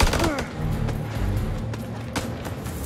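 Rapid gunfire in the horror game House of Ashes, a dense burst of loud close shots cracking in quick irregular succession over rumbling game sound, with no voices.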